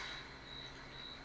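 Crickets chirp in a scary cave in the game Captain Toad Treasure Tracker, a steady, high, continuous trill heard faintly and alone.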